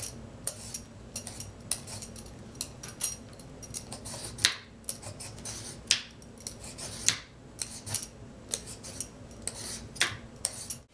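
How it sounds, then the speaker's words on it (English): A knife or peeler scrapes the outer layer off a papaya on a cutting board in a home kitchen, giving a steady series of short, crisp rasping strokes close by with no talking. "So we're going to start with peeling the papaya."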